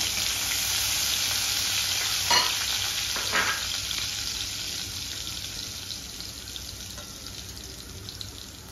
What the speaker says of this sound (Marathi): तूप टाकलं की थोडे जिरे टाकते फोडणीला